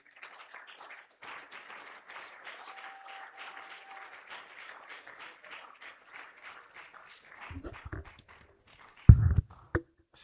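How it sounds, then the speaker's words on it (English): An audience at a university entrepreneurship summit applauds to welcome a speaker, a steady dense clapping that runs for several seconds, then thins out and ends in a few louder isolated knocks and handling sounds. "with a round of applause, let's welcome Mr. Solomon Ajay."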